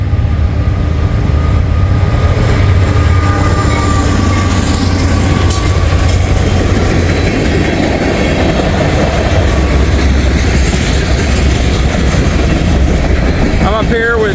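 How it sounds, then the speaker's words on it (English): A Norfolk Southern freight train rolls past on the line, a loud continuous rumble with clattering wheels and faint squeals throughout, and a voice talks occasionally beneath it. "We got a Norfolk Southern train coming up the line here."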